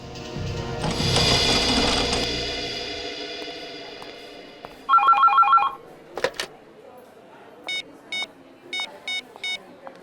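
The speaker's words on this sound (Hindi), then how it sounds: "आपके लिए फोन है।" A telephone rings in several short electronic bursts with pauses between them, following a stretch of mechanical clatter, in an otherwise quiet room.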